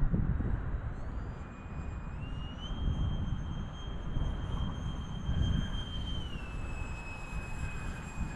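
Jet-powered RC flying wing passing overhead under throttle, a steady roaring rush with a high whine that rises and shifts in pitch as it flies, fairly loud with no voices.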